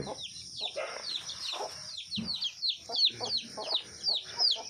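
Chicken chicks peep rapidly and repeatedly in high chirps close by while hens cluck softly underneath, a busy, uneven chorus of small birds in a farm enclosure.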